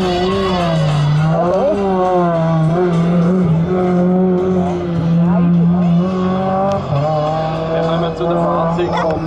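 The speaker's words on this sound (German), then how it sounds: "Zu den Fahrzeugen vom Renault Clio." Renault Clio Classic race cars in a 2016 Hemberg hillclimb rev hard with a steady, buzzing engine note that shifts pitch through gear changes, loud and close throughout.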